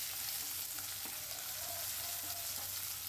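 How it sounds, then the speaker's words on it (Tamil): Chopped large onions sizzle and fry in a pan, a steady close hiss with occasional faint stirring scrapes throughout and no voices. "இப்போது வந்து பெரிய வெங்காயம் வந்து நல்லா வதங்கணும்."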